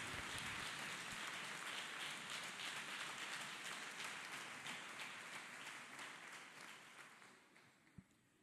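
A church congregation claps for Jesus Christ at a ministry service, a dense, steady wash of many hands that is loud at first and slowly fades toward the end, with no voices over it.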